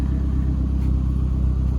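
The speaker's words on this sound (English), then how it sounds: "Now it's Issa's turn to drive the Lancer EVO 3" A Mitsubishi Lancer EVO III rally car drives with a steady, deep engine rumble heard from inside the car, with no one talking.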